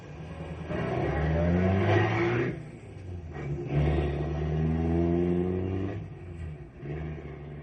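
Several hot rod car engines rev and rumble close by, surging up and easing off in overlapping swells.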